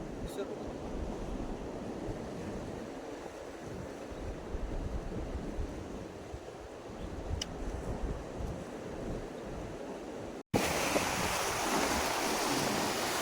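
Sea surf on the Konkan coast beside a rocky hill, a continuous roar of waves mixed with heavy wind buffeting the microphone, steady and fairly loud throughout, with a brief cut and louder rush near the end.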